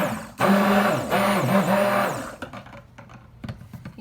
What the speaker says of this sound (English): You can see I'm just mixing it enough with the stick blender to get to emulsification.